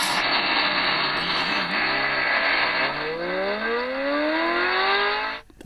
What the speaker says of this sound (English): Dynamic supercar.